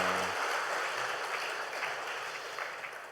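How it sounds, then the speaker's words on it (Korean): Congregation in a Korean church applauding a newcomer during Sunday service announcements, a steady wash of hand claps that fades gradually over a few seconds, with a brief low voice at the start. "우리 따뜻한 박수 한번 보내주시기 바랍니다"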